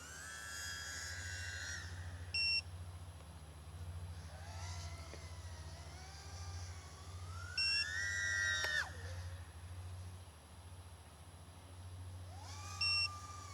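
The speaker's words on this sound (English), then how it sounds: "We're just going to have to ignore the beeping" Short electronic beeps from a mini racing drone repeat every few seconds over a steady motor hum, with whirring pitch sweeps rising and falling between them.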